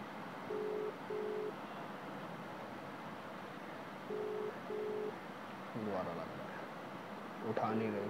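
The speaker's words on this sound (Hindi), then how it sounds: "उठा नहीं रहे, कॉल जा रहा है" An outgoing phone call rings unanswered, with two pairs of evenly spaced ringback tones over a steady hiss and a voice speaking near the end.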